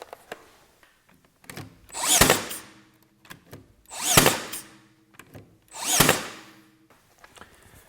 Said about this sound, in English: Makita's XNB01 cordless brad nailer also has a little ramp up delay